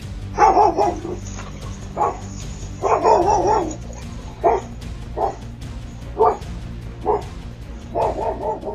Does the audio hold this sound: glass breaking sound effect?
no